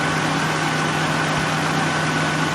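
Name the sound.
Nissan VG33E V6 engine idling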